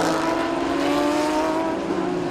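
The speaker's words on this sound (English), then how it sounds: "The boxer machine rumbling about." Deep steady rumble of a boxer-engined GT3 race car at a Thailand Super Series round, a sustained low drone heard close and loud with no talk over it.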